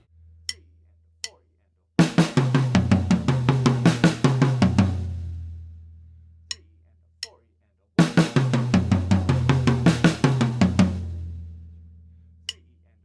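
Two fast 16th-note drum fills moving around the toms, each a rapid, loud run of hits that decays into silence, with a few lone hits between the runs.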